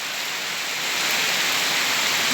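Steady heavy rain falls in a rural village during the rainy season, a dense, even hiss of rain on surfaces that stays loud throughout and builds slightly, with no voices.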